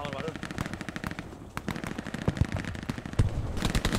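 Gunfire in the Hell Let Loose video game, rapid scattered shots and automatic bursts at mid distance with battlefield clatter, fairly quiet overall, while someone talks over it.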